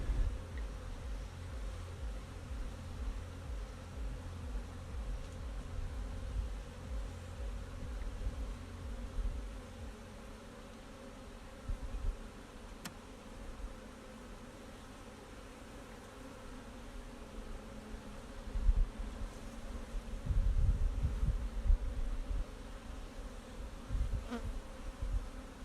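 Honey bees swarm around a hive during requeening, with a steady low drone of buzzing close by and louder swells as the bees move nearer, no voices.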